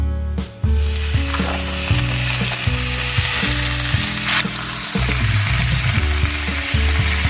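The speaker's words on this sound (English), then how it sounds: "We just want to give it a good stir. We want to mix it all in." Mixed vegetable bhaji with chopped asparagus frying in a pan for a Sylheti-style vegetarian curry, a steady loud sizzle with irregular scraping stirs, no voices.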